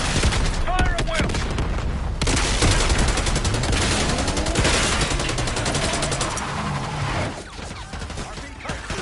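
Dense Black Ops 6 gunfire rattles nonstop in rapid bursts of automatic fire with heavy booms mixed in, loud and chaotic, with voices shouting faintly beneath the barrage.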